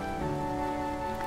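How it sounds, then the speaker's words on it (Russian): Heavy outdoor downpour, a dense steady hiss of rain falling as a wall of water, loud and unbroken for the whole short stretch, no voices. "Просто стена ливня, у нас нет зонтиков"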